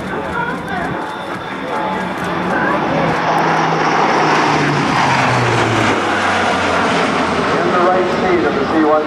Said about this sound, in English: Right now they're lining up for a high-speed pass. They're going to be coming by at over 300 miles an hour.